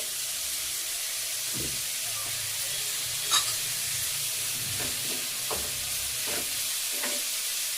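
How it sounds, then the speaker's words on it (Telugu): Moong dal frying in a pan, a faint steady sizzle with occasional soft stirring scrapes and clicks, low and continuous throughout. "పెసరపప్పు, పెసరపప్పుని కూడా బాగా వేయించి"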